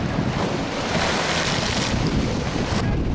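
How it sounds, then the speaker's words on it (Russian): Wind roars steadily and loudly on a seaside embankment in Gelendzhik, buffeting the microphone as waves wash in underneath, with no voices. "А сегодня поднялся ветер."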